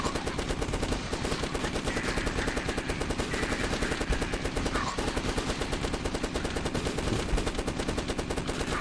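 Nonstop gunfire fills The Last Stand video game, a dense, loud stream of rapid automatic shots blending with overlapping bursts and no pauses or speech throughout.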